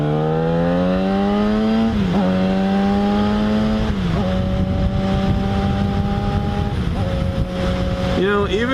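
A Yamaha FZ6R motorcycle engine drones under way while riding, its pitch climbing through each gear and dipping at shifts about every two seconds, steady and close with wind noise and no talk over it.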